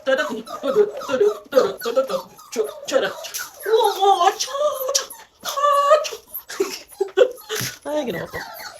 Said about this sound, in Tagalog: Hey, ingay nyo. Tingnan nyo yung aso ko.